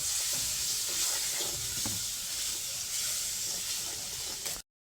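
Spices and a bay leaf frying in hot oil for tempering mung dal with papaya, giving a steady, loud hiss and crackle that keeps going throughout with no voices.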